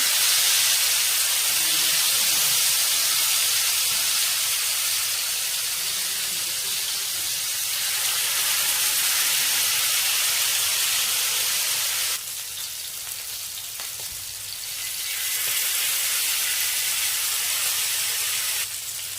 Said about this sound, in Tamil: எண்ணெய் சூடானதும் மீன் எடுத்து அதில் பொரிச்சிடலாம்